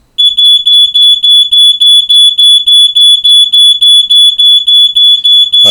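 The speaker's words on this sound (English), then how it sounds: "As you can see, that's my smoke alarm." A smoke alarm beeps rapidly and loudly in a steady repeating pattern of high-pitched chirps, with no other sounds until a brief thump at the end.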